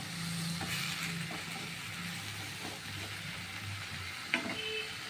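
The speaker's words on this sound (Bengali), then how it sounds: "ভালো গন্ধ হয় তাই ভেজে নিচ্ছি একটু সামান্য" Pumpkin leaves fry in a pan with a steady, soft sizzle, joined by faint stirring scrapes and a single light clink near the end.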